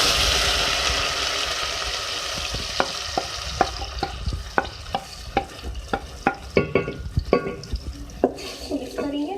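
Two medium ground onions fry in a hot pan while being stirred, a steady sizzle under a rhythmic series of close scraping, clinking strokes of a spoon against the pan.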